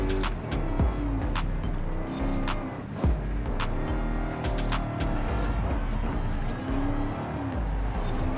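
Supercharged 2022 Dodge Challenger SRT Super Stock in Forza Horizon 5, its engine droning steadily and loud throughout with repeated rev swells and gear-shift blips, heard alone.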